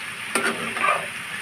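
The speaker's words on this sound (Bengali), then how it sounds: "ভালোভাবে মিশিয়ে আমি 7-8 মিনিট এটা ভালোভাবে ভেজে নেব" Bottle gourd and shrimp frying in a pan hiss in a steady sizzle, with a couple of brief stirring scrapes rising above it.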